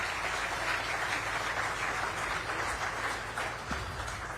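A large audience at a business summit applauds in a dense, continuous wash of clapping that holds steady from start to finish, with no speech.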